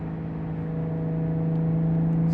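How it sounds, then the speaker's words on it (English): Air conditioning blows inside a car that may be a Porsche GT3, a steady whir with a strong low hum that holds evenly and swells slightly toward the end. Nobody talks over it. "Does the air conditioning blow strong?"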